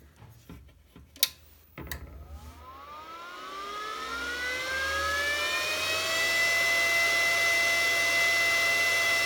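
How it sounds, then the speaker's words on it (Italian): A Parkside PISG 120 A1 inverter stick welder starts up after a few clicks, its cooling fan spinning up with a rising whine that settles into a steady, loud, close whir. "Ha una ventola abbastanza potente e rumorosa rispetto all'altra"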